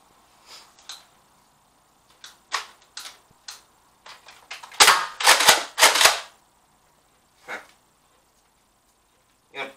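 Nerf Rough Cut 2x4 blaster slam fired, a run of sharp plastic clacks and pops, several spaced shots then a dense loud burst of firing followed by two lone clicks.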